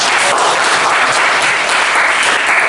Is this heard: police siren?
no